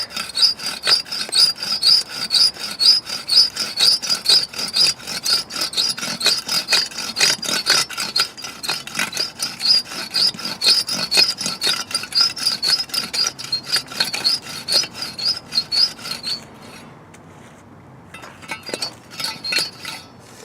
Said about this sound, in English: so we start with our cordless adobe saw. Semi-stabilized block.